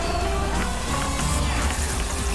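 A packed Thai Fight crowd at Bang Kachao roars and claps to welcome an Italian fighter, a dense, loud, continuous swell of cheering with a commentator talking over it.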